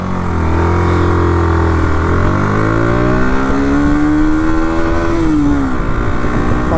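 A Bajaj NS 160 motorcycle engine idles and then revs up, its pitch climbing steadily before dropping back as the ride begins, loud and close throughout.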